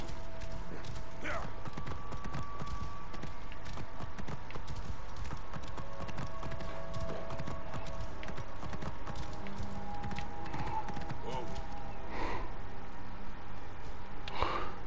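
A horse's hooves clop steadily in Assassin's Creed Origins, a continuous rhythmic trotting under a dense game soundscape, with occasional snorts and brief clatters, moderately loud throughout.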